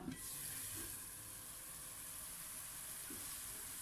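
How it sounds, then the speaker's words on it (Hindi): Masala frying in oil for egg korma with potatoes, a steady close sizzle with a bright hiss throughout, broken by a few soft stirring scrapes. "कितना ज़बरदस्त किस्म का मसाला भुन रहा है।"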